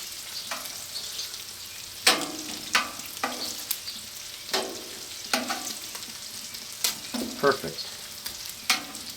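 Bacon fries on a griddle set up on a Weber grill, a continuous crackling sizzle broken by sharp spatula scrapes and taps every second or so, close and fairly loud.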